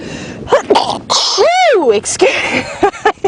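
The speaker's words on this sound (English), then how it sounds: "That sneeze has been building up for about 20 minutes." A loud, sharp sneeze bursts out close by, with bits of a voice talking just before and after it.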